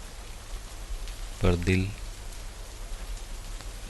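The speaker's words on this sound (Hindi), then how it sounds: "शायद बारिश हल्की हो गई है अब" Steady rain falls at night in a dense, even wash of noise. Someone speaks briefly over it in the middle.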